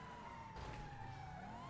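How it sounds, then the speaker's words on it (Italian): Police car siren from GTA 5 wails in a steady sweeping tone, faint and distant under a low rumble of game engine noise, no speech. "Dovete accendere le sirene non per tryhardare."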